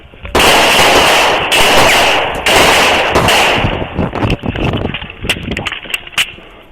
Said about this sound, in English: Shots fired, kid!